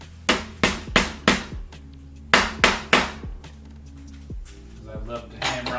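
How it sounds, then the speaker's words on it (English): A hammer taps on a Canyon Spectral 125 mountain bike part during a rebuild: two quick bursts of three or four sharp metallic knocks each, close and loud, with a few fainter taps after. "I love to hammer on my bikes."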